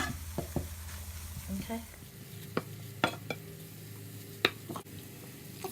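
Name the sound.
spices cooking in a pan for sardine chutney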